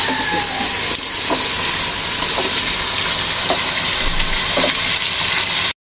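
Onion and tomato hit hot oil in a pan for dhaba-style aloo gobi, giving a steady close sizzle and frying hiss with a few light clinks, continuous for several seconds before cutting off.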